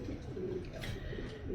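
Racing pigeon cooing softly in low, rolling murmurs, close and steady through the short stretch with light background hiss.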